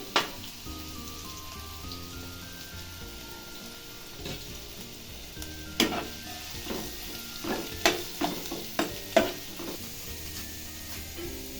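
Sliced onions, two of them, frying in hot oil in a pan, a steady crackling sizzle with a run of sharp scraping stir strokes toward the end; no voices.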